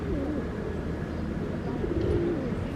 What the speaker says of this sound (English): Tons and tons of bloody pigeons.